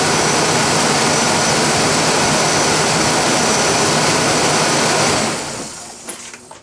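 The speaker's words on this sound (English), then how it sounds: "all the belts are running pretty good. No more noise from that tensioner." A 2000 Ford Ranger V6 runs at idle with a new serpentine belt, a loud, steady whirring roar heard up close that drops off sharply near the end into quieter handling noises.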